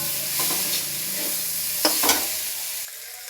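Chickpeas and fried egg are stirred in a frying pan, with a steady sizzle under a few scraping and clinking strokes of the utensil against the pan, close and clear, before the sizzle drops away near the end.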